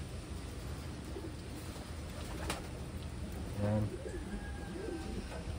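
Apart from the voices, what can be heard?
Taiwan pigeons cooing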